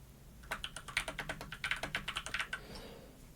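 Quick bursts of keystrokes on a computer keyboard, a word typed in rapid clicks close to the listener, then a pause before a final tap, quiet and without any voices.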